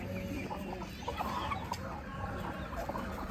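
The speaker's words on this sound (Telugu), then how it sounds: "కోళ్ళ దగ్గరికి వెళ్ళు పూర్విక." Farmyard chickens cluck and murmur near a visitor's path in Tirupati, with short, soft clucks scattered over a quiet outdoor background.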